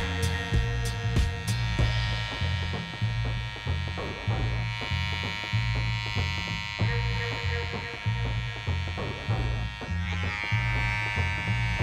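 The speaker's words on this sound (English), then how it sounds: "the tool that I'm using is a Wahl Detailer LI. This cordless trimmer has 100 minutes of runtime" A Wahl Detailer Li cordless hair trimmer buzzing steadily up close while cutting hair at a salon, its hum pulsing in short repeated passes, with a few clicks near the start.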